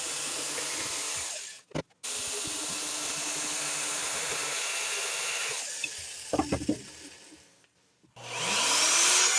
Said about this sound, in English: So I clamped my router upside down to my workbench